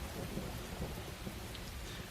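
A thunderstorm with steady rain falling and low rumbling thunder, a dense continuous wash of sound with no voices.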